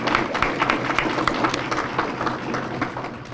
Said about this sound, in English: one more round of applause for our volunteers